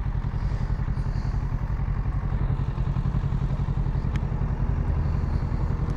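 A Kawasaki Z650 naked motorcycle on a daily ride, with a steady mid-pitched engine drone and rhythmic pulsing, fairly even and moderately loud, with no voice heard.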